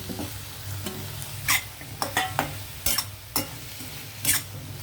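Chilli powder is stirred into a frying curry. A soft sizzle is broken by repeated scrapes and clinks of a spoon against the pan, close and fairly quiet.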